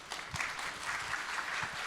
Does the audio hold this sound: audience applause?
yes